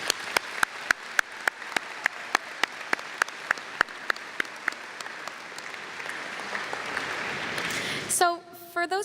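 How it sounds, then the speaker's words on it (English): A crowd applauding at a high school graduation ceremony, starting with a few distinct rhythmic claps that swell into dense sustained applause across a large hall, cut off near the end by a voice at the microphone. "I think we all deserve a round of applause"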